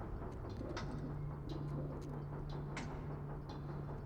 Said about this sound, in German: Hört ihr die Taube?